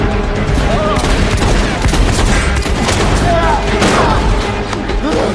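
Gunfire in an action film scene, a dense burst of shots and booms set against a loud, busy soundtrack with voices mixed in throughout.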